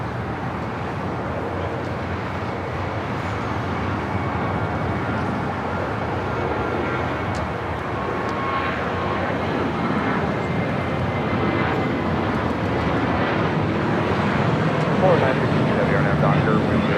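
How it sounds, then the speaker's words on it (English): A DHL Polar Air Cargo Boeing 777 freighter at LAX gives a steady, broad jet-engine roar that swells slowly as it passes at a distance. A voice talks faintly underneath. "DHL Polar Air Cargo Flight 962 heading to Cincinnati in the 777 freighter"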